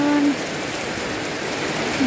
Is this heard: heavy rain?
yes